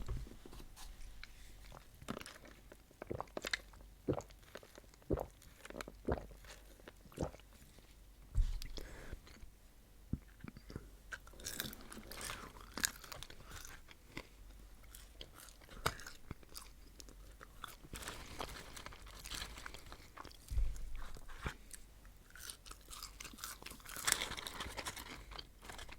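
A McDonald's Big Mac meal with salty fries is eaten up close, with soft crunches, wet chewing and bites, occasional wrapper crinkles, and irregular quiet pauses between mouthfuls.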